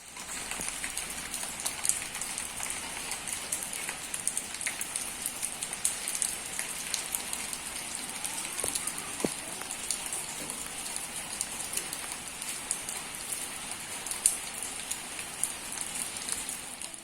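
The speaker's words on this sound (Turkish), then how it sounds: "şarıl şarıl yağıyor" Heavy rain pours down steadily, a dense continuous hiss of drops drumming on surfaces throughout, with no voices.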